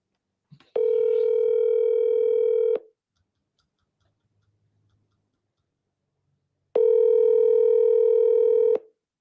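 A phone line gives two long, loud ringback tones about four seconds apart, separated by near silence, while an outgoing sales call is placed.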